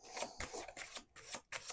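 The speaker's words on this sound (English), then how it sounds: "We're doing one more shuffle." Tarot cards being riffle-shuffled, a handful of quick papery bursts of flicking and rustling, close and fairly quiet, with no talking.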